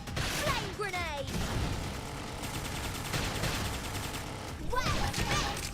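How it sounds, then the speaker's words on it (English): A flame grenade attack erupts in Xenoblade Chronicles X, a dense roar of blasts and crackling bursts rolling loudly for several seconds beneath brief overlapping voices, with sharp rapid impacts layered through a steady, heavy battle din. "Flame grenade!"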